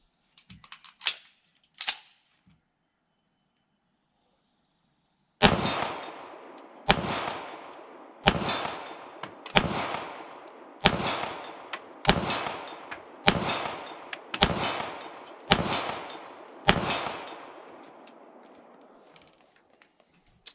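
A CZ 75B Omega 9mm pistol fired at a steel plate about 35 yards away: a couple of early shots, a pause, then nine evenly spaced sharp cracks, loud and close, with no talking.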